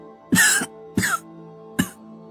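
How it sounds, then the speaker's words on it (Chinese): An injured man in an animated Chinese fantasy drama coughs after surviving a lightning tribulation: three short, close, harsh coughs at even intervals, the last one weaker, with no other sound. "又忍不住咳嗽2声"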